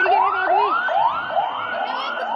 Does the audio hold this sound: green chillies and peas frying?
no